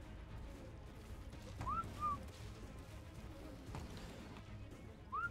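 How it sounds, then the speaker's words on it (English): A player's command whistle to tamed jerboas in ARK: Scorched Earth, heard as a few short rising whistle chirps over a faint, murky game background. "Should I whistle them?"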